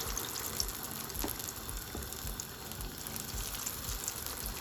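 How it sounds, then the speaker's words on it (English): Oil sizzles and crackles steadily as accara bean fritters fry, a constant hissing bubble with occasional small pops close by. "I'm gonna be frying my accara"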